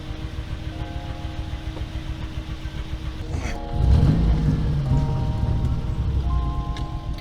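A 1986 Mazda fitted with a swapped-in electric power steering pump drives along with a steady engine hum and road rumble, swelling louder partway through, with faint whining tones layered over the drone.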